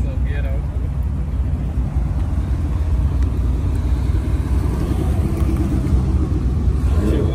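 At a Memphis cars and coffee meet, a car pulls out, its engine giving a loud, steady low rumble close by while people talk over it.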